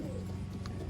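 Young pigeons on a loft landing board: soft low cooing close by, steady and faint, with a few brief higher chirps over a mild background hum.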